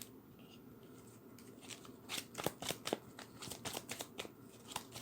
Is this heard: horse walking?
no